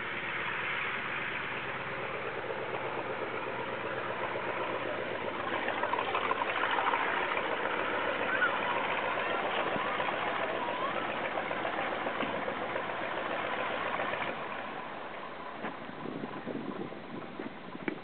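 A 1930s German Fieseler Storch airplane's engine idles steadily on the ground, a continuous rough drone that holds for most of the stretch before easing slightly near the end, with no talking.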